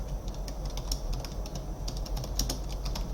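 Steady, quiet clicking of keys on a computer keyboard while text is entered into code, with irregular taps and small clusters of strokes continuing throughout.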